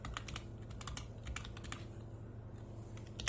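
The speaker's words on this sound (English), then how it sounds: "I'm gonna type Tinkercad." Typing on a computer keyboard to enter a search, with a steady run of close, crisp keystrokes that rises to a final sharper press at the end.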